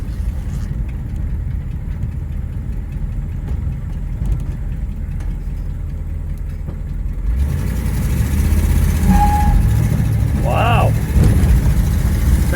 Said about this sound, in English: Burning rubber in a 1964 Thunderbird